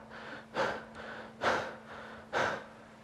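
A person imitates heavy breathing from aerobic exercise: three loud, evenly spaced panting breaths, each a sharp rushing exhale roughly a second apart, with no other sound between them.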